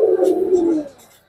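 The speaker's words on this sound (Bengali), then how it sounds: "রেড চেকার খুব সুন্দর কবুতর" A red checker pigeon at a loft gives a single soft, low coo lasting about a second, close and clear.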